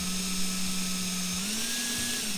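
A drill starts a hole in the metal rear bumper of an Airstream trailer, giving a steady high whine that shifts slightly upward in pitch partway through, close and continuous with faint low rumbling beneath.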